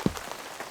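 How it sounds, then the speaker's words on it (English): Rain falling on a campsite during a camping trip: a soft, faint, steady patter with one brief low thud near the start and no voices. "I just gotta remember how camping in the rain works."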